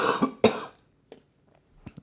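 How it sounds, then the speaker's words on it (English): Two sharp, close coughs from a man hosting a live crypto market stream, followed by quiet breathy throat sounds. "Apologies for my cough."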